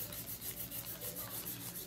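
Hand filing of acrylic nails with a pink and white ombre: a soft, steady rasping scrape repeating in quick even strokes, faint and close, with no talking.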